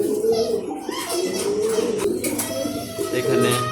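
Racing pigeons coo in low, repeated throaty calls close by, with people talking over them.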